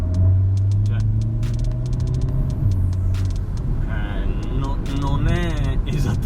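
A Volkswagen Golf GTD Mk7 diesel with a Stage 2 tune to 240 hp idling: a low, steady droning hum that sits under someone talking throughout and fades back as his voice takes over.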